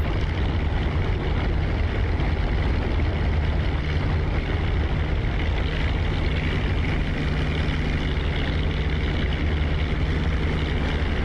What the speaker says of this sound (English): You guys hear the RPMs spiking up a little bit.